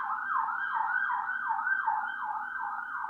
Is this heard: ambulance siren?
yes